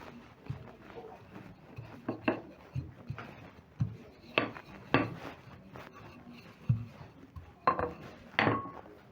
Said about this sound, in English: I'm going to use my rolling pin and spread out the dough to a big rectangle.